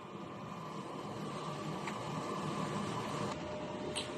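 A DTF printer runs a print head cleaning cycle, with a steady mechanical whir and hiss held at an even level throughout and a couple of faint ticks near the end.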